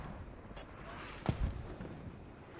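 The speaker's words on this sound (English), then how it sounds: "Friendly mortars maybe now hitting." Friendly mortar rounds landing close by in a military video game, a muffled thump followed by a second rumbling impact over low background noise, with a voice talking quietly underneath.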